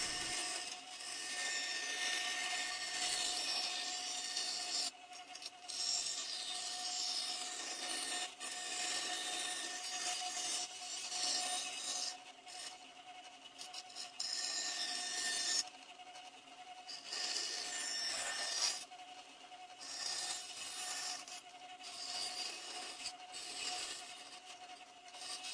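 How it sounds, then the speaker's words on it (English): Band saw cutting wooden letters out of a template for 3D letter carving, a steady close whine and rasp of blade through wood running continuously with brief shifts in pitch as the cut turns. "then I cut the letters out on the bandsaw"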